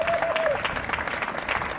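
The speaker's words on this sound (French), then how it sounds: "Est-ce qu'on peut l'applaudir très fort?" An audience breaks into dense, steady applause for the comedian Cocodioko, with a brief whistle at the start and crowd noise sustained throughout.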